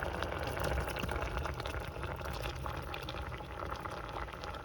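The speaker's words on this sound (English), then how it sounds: "So we're going to turn this on medium high and pour the green beans in." Green beans going into boiling water in a pot on a stove set to medium high, giving a steady loud bubbling and rushing liquid sound, close and continuous.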